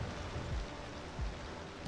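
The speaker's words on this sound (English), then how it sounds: "It is still raining miserably" Steady rain falling in the city-builder game Cities Skylines 2, a continuous broadband hiss of downpour with occasional low rumbles underneath.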